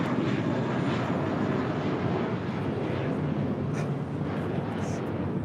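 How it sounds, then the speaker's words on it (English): JetBlue Airways Airbus A321, eight years old, departing LAX for JFK: a continuous rumbling jet roar with wind buffeting, steady and fairly loud, easing slightly toward the end. "That was Una Nueva Mentalidad departing to JFK, JetBlue Airways Flight 324, an 8-year-old A321."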